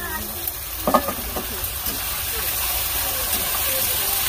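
Onions with ginger and garlic frying in a pan, a steady loud sizzle and hiss with a few stirring clatters early on, and a voice faintly heard.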